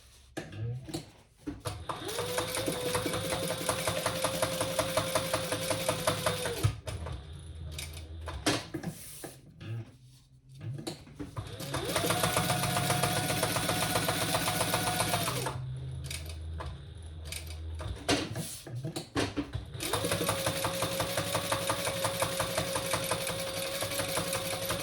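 Sewing machine stitching a waterproof canvas bag, running in three steady bursts of rapid mechanical whirring separated by short pauses.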